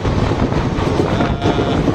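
The Madhupur Express runs along the line, a loud, dense and steady rumble of wheels and carriage noise heard from on board.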